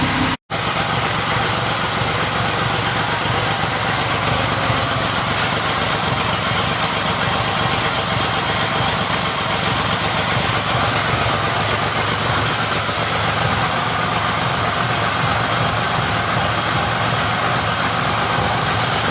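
A Yamaha XS850 motorcycle engine idles steadily after carburettor installation, with cylinder one running roughly; a continuous loud, close, even drone with a slight uneven knock throughout.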